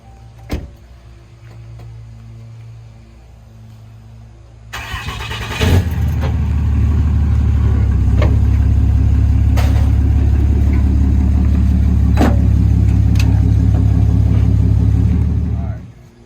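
An RV engine cranks and catches after a quiet stretch with a few clicks, then settles into a loud, steady idle and drive-off rumble with brief sharp knocks before cutting out near the end.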